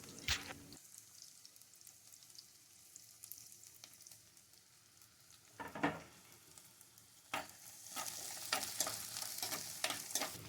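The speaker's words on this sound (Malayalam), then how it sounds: "വെളുത്തുള്ളിയും ഇഞ്ചി പച്ചമുളക് അതുപോലെ തന്നെ സവാള അതൊക്കെ ചേർത്തിട്ട് നന്നായിട്ടൊന്ന് വഴറ്റിയെടുക്കാം" Garlic, ginger, green chili and onion sautéing in coconut oil in a pan, a steady sizzle broken by several loud close stirring and scraping bursts, growing busier toward the end, with no voices.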